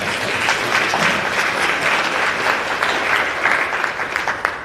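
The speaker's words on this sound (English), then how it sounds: "let's give them a round of applause" A town hall audience breaks into a round of applause, dense and fairly loud clapping holding steady throughout the short stretch.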